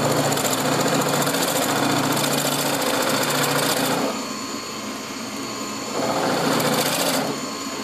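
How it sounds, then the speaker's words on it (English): A drill fitted with a Forstner bit bores a shallow hole into wood, a loud, steady close whirring that dips briefly in the middle before rising again, then drops at the end. "put in this Forstner bit. We'll let this thing find its own center. Then we're going to cut in about 1/8 of an inch."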